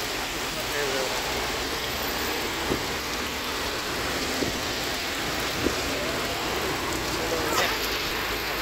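Steady rain falling, a continuous dense hiss filling the whole stretch with a few faint knocks, and someone speaking quietly over it.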